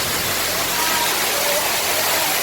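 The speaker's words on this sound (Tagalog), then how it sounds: "Ganda din binabagsakan ng tubig." Steady, loud roar of water pouring down at Parasapas Falls, a dense broadband rush filling the whole clip up close with no breaks.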